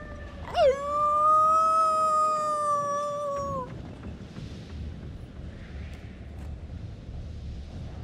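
A wolf in the Until Dawn video game gives one long, clear, sustained howl that bends at the start, followed by quiet wind-like ambience.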